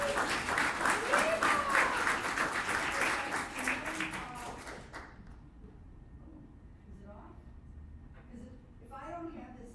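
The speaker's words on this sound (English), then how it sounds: "we're going to give a big clap to the Capital Factory and a big clap to" A meetup audience applauds, dense clapping that fills the first half, then fades out as a few scattered claps and a voice remain.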